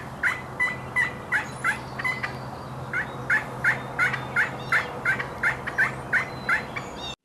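Wild turkeys gobbling out in a spring field where a dominant tom chases jakes, a long series of some fifteen sharp, rattling gobbles repeating at a quick steady pace, moderately close, over faint background hum.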